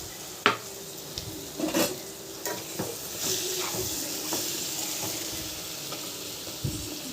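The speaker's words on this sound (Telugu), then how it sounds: "ఇప్పుడు కట్ చేసుకున్న ఆలు ఇందులో వేసేసుకోవాలి." Cut potatoes frying in oil in a pan, with a soft continuous sizzle under occasional scraping and clinking stirring strokes, fairly quiet and close, without talk.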